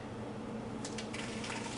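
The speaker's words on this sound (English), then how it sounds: "I'll just show you by pouring back in." Green smoothie poured back into a blender jug, a soft continuous liquid splash and trickle that thickens midway, close by and fairly quiet with no talking.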